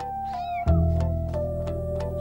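Young kittens meow several times in thin, rising calls over a steady low hum, close and clear, with no voices.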